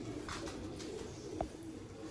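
A pigeon gives a brief, soft coo over a steady background hum, with faint bird sounds around it.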